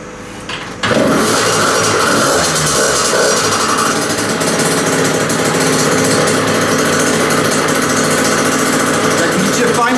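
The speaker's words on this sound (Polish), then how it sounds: "Jak widzicie, fajnie chodzi ten silnik na wolnych obrotach." A Derbi Senda motorcycle engine catches after a brief crank and settles into a loud, steady, buzzing idle that runs on unbroken, close to the listener.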